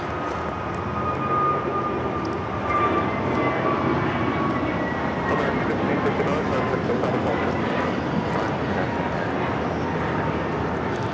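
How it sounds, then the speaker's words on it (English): An American Airlines A321neo jet takes off at LAX, a broad, steady engine roar that holds for several seconds with a faint rising whine, heard at some distance without talk over it. "This is American Airlines 1659 taking off to Dallas-Fort Worth on the A321neo"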